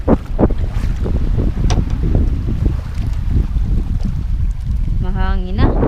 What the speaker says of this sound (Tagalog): Mahangin na.